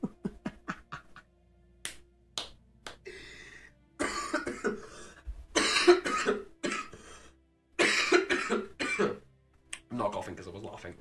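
Person coughing in a series of sharp, close bursts, first quick and clustered, then heavier fits mixed with throat clearing and a little talk.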